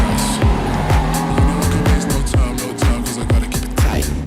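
A Lamborghini Aventador pulls away with a loud, close engine roar, its revs climbing and dropping in quick repeated sweeps as gears shift, with tyre noise underneath.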